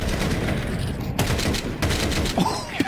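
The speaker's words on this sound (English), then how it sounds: "Beautiful shooting for MongolZ." Rifle fire in a professional Counter-Strike match, with several sharp tapped shots and short bursts over a constant background of in-game noise and a faint caster voice.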